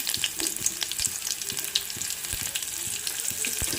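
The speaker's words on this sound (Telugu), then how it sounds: "ఆనియన్స్ వేసుకొని ఫ్రై చేసుకుందాం" Chopped onions sizzling and crackling in hot oil along with tempering spices, a continuous close frying hiss dotted with small pops, with no talking.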